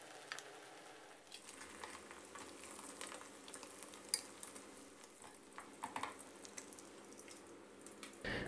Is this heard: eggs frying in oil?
yes